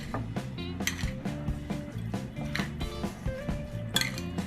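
Utensils clink and scrape against a bowl as an eggplant, cucumber and cherry tomato salad is tossed and mixed, a quick, irregular clatter at moderate volume.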